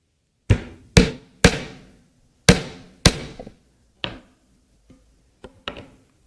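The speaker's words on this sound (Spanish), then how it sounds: "Yo creo que aquí todos hemos clavado alguna vez un clavo, ¿no?" Someone drives a nail with a hammer in a quiet indoor room, making about eight sharp, ringing blows at an uneven pace that grow softer toward the end, heard close and alone.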